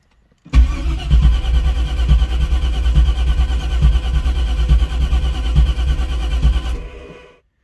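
A turbocharged LS1 Camaro engine, freshly mapped and running badly, cranks and catches, then runs loud and rough for about six seconds with an uneven, lumpy low rumble before cutting off.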